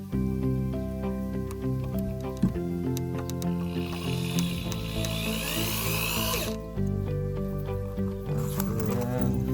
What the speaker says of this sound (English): I'm going to screw that on there in the middle